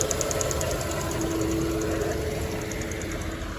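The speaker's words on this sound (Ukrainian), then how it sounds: "Цей клапан клацає." A 2008 Skoda Octavia Tour engine idles steadily with a fast, regular ticking clatter from a clicking valve riding on top, close and continuous, no voices.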